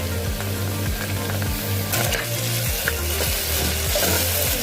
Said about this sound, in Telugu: బాగా కలుపుకొని ఇది అల్లం వెల్లుల్లి పేస్ట్లోకి పచ్చివాసన అంతా పోయినంత వరకు బాగా ఫ్రై చేసుకోవాలి